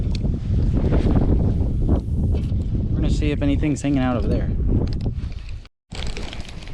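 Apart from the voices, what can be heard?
strong wind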